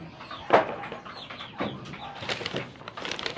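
Young gamefowl stags of a Sweater Gilmore cross, about one month old, feeding on crumble; a few soft clucks and chirps come through, one sharper call near the start, fairly faint with no talking.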